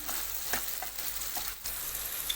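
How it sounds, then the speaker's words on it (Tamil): Chopped cabbage and tomato sautéing in a pan, a continuous close sizzle with a few scattered stirring clicks and scrapes, nobody talking. "அதையும் நல்லா கலந்து விட்டுட்டு கொஞ்சம் வதங்கட்டும்"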